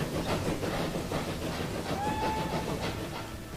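A train runs in the Transport Fever video game, giving a steady rumbling rail roll with clickety-clack and a brief high whistle-like tone partway through, continuous and moderately loud.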